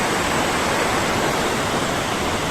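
Gushing river water rushes through forest near the Meenmutty waterfall, a dense, steady roar of white water that stays loud and close, with no break throughout.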